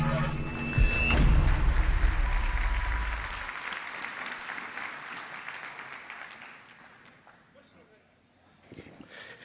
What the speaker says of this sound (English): Mr. Meintjes, you got quite a few rounds of applause there